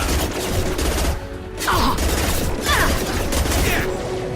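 Rifle gunfire in the video game Mass Effect 2, with sharp shots cracking over dense combat noise and a steady din of battle throughout.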